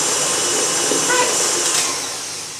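An electric mixer creams butter with sugar at medium-high speed for a vanilla birthday cake batter, giving a steady, loud, bright motor whir that holds evenly and eases off slightly toward the end.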